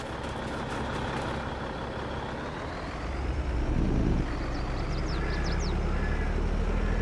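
A heavy truck in the Farming Simulator 22 game rumbles steadily with a low engine drone that swells partway through, joined by short high squeaks or chirps near the end, with no talk.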